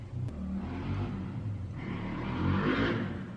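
A car passes outside, a faint muffled rumble and whoosh rising and fading over a few seconds, heard from indoors.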